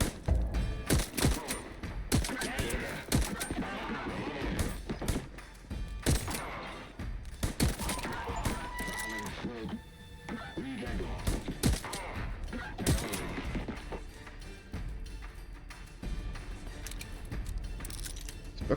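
Rapid, dense gunfire from the Voidtrain video game, with loud overlapping bursts and shots rattling almost continuously for the whole stretch, with no talking.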